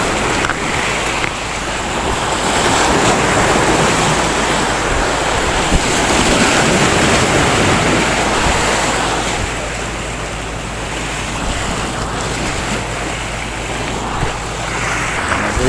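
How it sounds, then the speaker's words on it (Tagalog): Rough sea surf washing against the Almina breakwater in Abu Dhabi during bad weather, with steady gusty wind noise buffeting the microphone throughout and no talk. "Maalon kasi dito"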